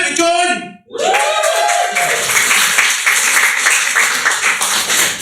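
A comedy club audience in Glasgow breaks into loud, sustained clapping and cheering right after a brief shouted line, the dense applause continuing evenly to the end.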